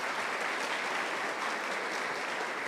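A church congregation claps steadily, a dense even wash of applause that holds at the same level throughout.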